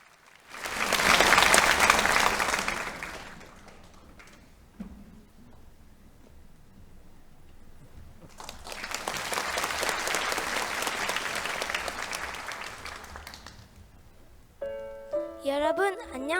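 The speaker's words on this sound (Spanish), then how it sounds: "Vamos a darle un gran aplauso." An audience at a Bible seminar gives two bursts of applause, the first loud and short, the second longer and softer after a quiet gap, followed by a brief musical chime.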